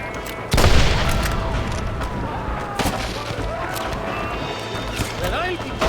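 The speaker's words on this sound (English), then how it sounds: "They're shooting down on us!" Gunfire in the Red Dead Redemption video game, a loud opening shot followed by scattered cracks and booms in a gunfight, with shouting voices and hoofbeat-like clatter mixed throughout.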